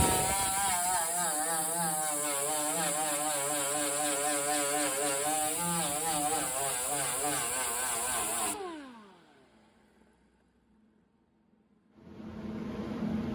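A grinder cuts out rusted metal on the bed of a 1984 Nissan 4x4 truck, a loud, close, steady whine that wavers under load, then spins down to near silence before starting up again.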